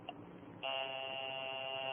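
A telephone's ringing buzz for a radio drama starts abruptly and then holds as one steady, nasal electric tone, following a brief faint click.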